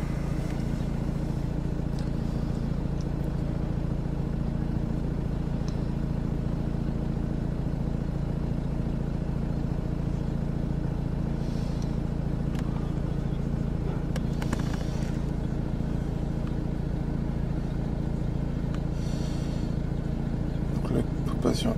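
A Renault car engine idles steadily, running throughout as a diagnostic tool connects, a constant low hum with occasional faint clicks and noises over it.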